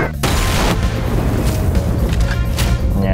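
A grenade blast goes off at a teleporter in Project Brutality for DOOM 2, a loud booming explosion with rumbling, crackling aftershocks and further gunfire-like bangs layered through the whole stretch.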